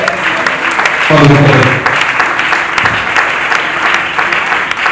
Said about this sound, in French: Est-ce qu'on peut acclamer très fort le Seigneur de notre Père?